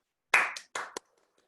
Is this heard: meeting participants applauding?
yes